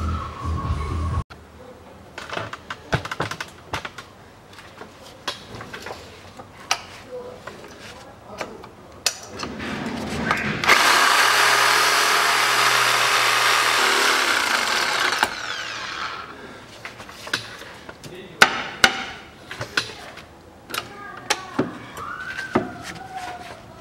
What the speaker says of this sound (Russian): болт вообще не проворачивается, поэтому даже ничего не пытаюсь, беру его сразу и пилю.